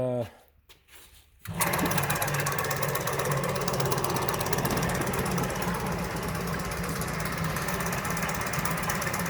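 A paint shaker machine with a ticking bearing runs loudly and steadily with a dense mechanical rattle and faint ticking, starting abruptly after a brief quiet moment.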